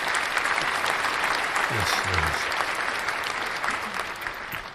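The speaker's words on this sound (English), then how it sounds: "Is there supposed to be an applause line?" Sustained applause from a crowd fills the whole stretch, a thick, even wash of clapping that holds steady throughout, with a voice speaking briefly over it.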